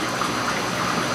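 Water gushes steadily into a tub, a continuous broad rushing splash with no breaks.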